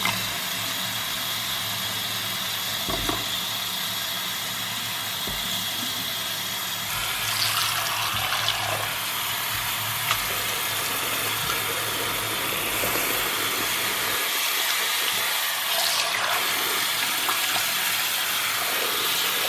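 Running water rinses curly clip-in hair extensions, a steady unbroken gush like a tap or shower stream with a faint low hum beneath, continuous and alone without speech.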